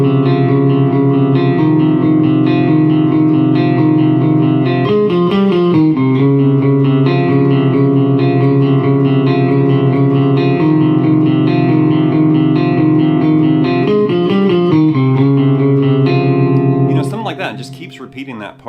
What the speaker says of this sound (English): It actually is clean first, and then they add distortion, and they start doing the same riff with distortion too.